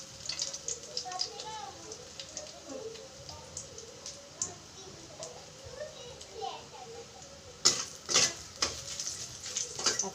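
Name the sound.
garlic sizzling in oil for tempering greens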